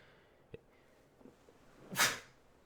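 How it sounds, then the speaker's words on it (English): A single sharp sneeze bursts out loudly after a quiet stretch with a faint tap or two beforehand. "I just sneezed."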